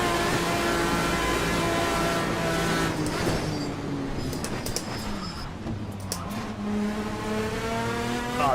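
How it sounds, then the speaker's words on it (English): Racing car tyres skidding in Assetto Corsa with a modded car: a loud engine drone whose pitch sweeps up and down, with a rough, noisy scrub of tyre squeal in the middle of the run. "the tyre skid sounds awesome"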